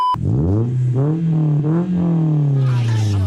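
A Saleen car's V8 engine is blipped several times after a cold start, each throttle stab swelling into a loud, throaty rev before dropping back to a lumpy idle, heard close up.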